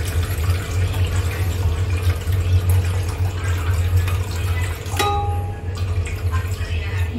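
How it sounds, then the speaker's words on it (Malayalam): Tamarind water and plain water pour steadily into a cooking pot for rasam, making a continuous close splashing stream, with a low constant hum underneath and a short clink partway through. "ഇതിലേക്ക് നമ്മൾ എടുത്തു വെച്ചിരിക്കുന്ന പുളി വെള്ളം ഒഴിച്ചു കൊടുക്കുക"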